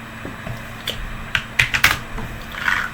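Python code being typed on a computer keyboard: a quick run of clustered, close key clicks of uneven rhythm, mostly alone with no talking.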